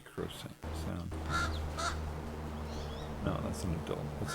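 An adult crow caws angrily outdoors in a series of harsh, fairly close calls over steady background noise, with a person talking at times.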